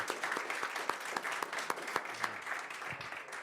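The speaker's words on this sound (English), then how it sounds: "Let's give them a round of applause for the service to our community." Audience applause at a school board meeting: a full, steady round of many hands clapping, with a few sharper nearby claps standing out, sustained through the clip without talk.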